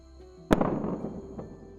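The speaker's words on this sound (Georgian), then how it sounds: "Starship-ის მეორე საფეხური ფრენისთვის მოსამზადებელი სამუშაოებისას ხმელეთზევე აფეთქდა" A SpaceX Starship second stage blows up on the ground during pre-flight test preparation, heard as one sharp distant blast followed by a rumbling, crackling tail that fades over a second.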